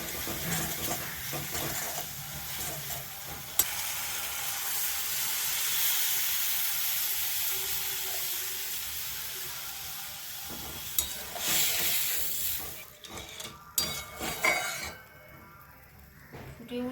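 Water poured into hot oil in a pan while cooking a fish-bone chorchori sets off a loud, steady sizzling hiss of steam, which thins toward the end as utensils clatter and scrape.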